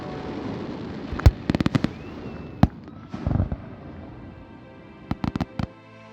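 Fireworks bursting outdoors over water in irregular clusters of sharp pops and booms, some single and some in rapid volleys, over a low rumbling background.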